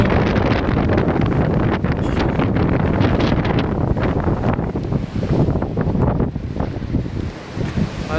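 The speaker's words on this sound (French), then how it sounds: "Ah, ça souffle." Strong gale-force wind roars continuously across the microphone on the coast at Pointe de Chemoulin, loud and buffeting, with surf faintly mixed underneath.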